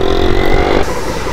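A motorcycle on a round-the-world trip rattles and clatters loudly over a rough road in Iraq, a dense, close, continuous racket of shaking metal with engine noise beneath.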